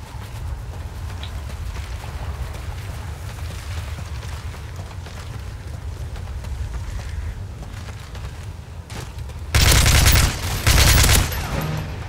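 Low engine-like rumble continues, then two loud bursts of rapid video game gunfire break out near the end.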